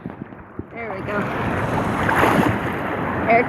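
Ocean waves wash onto a sandy beach, a rising rush of surf building to a broad roar amid gusty wind noise on the microphone, with brief voices near the start.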